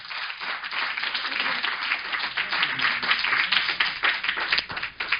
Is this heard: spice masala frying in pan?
no